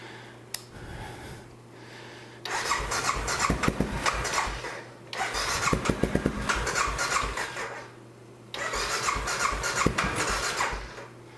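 An Aprilia Pegaso 650 motorcycle engine, cold and without an accelerator pump, cranks and fires in three loud bursts of sputtering revving separated by short pauses, with no voices.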